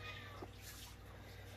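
A cat meows once, faint and brief, in a room where tanks are being refilled with water, the meow sitting over a steady hum of running water.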